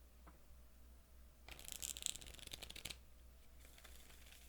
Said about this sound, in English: I love the sound of like card shuffling.